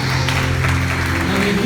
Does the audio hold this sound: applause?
yes